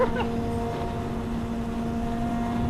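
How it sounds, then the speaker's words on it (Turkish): A steady, droning engine hum from a 2005 Yamaha 600 motorcycle runs unbroken throughout, low and even like a motor idling close by. "Bizim motorun sesi çok felaket ama ya."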